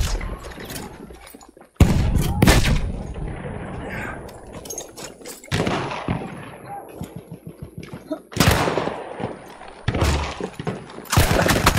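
Battlefield 1 multiplayer combat with loud gunshots and heavy blasts, including a grenade explosion, in irregular bursts over continuous battlefield noise, with a player's voice talking throughout.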